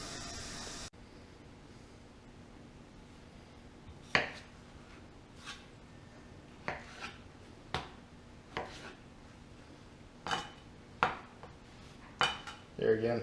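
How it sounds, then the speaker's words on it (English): Potatoes for Manhattan clam chowder are cut on a board, a series of sharp, separate knife taps spaced a second or so apart, close and fairly quiet. "we'll cut up our potatoes"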